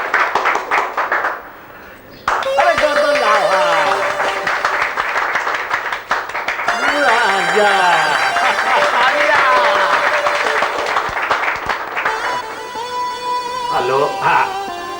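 Audience applause bursts out to honour the award recipients at a chief minister's special bravery award ceremony, loud, dense clapping rising and falling across the stretch with music layered over it and a brief spoken line.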